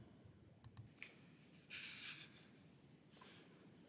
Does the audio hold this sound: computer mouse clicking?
yes